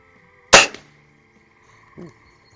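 A Diana model 45 .177 spring-piston air rifle fires once at a 25-yard range, giving a sharp, loud crack followed by a short fading ring, then a faint thump of the pellet striking the target about a second and a half later.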